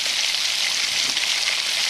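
Ginger, garlic and green chili paste fries with onions in hot oil for a soya chunk dry curry, giving a steady bright sizzle that stays close and continuous with no talking.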